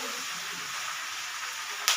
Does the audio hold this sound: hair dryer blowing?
no